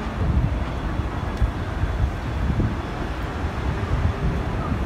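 Steady wind blows outdoors, a continuous low rumbling buffeting with gusts, fairly loud and unbroken throughout.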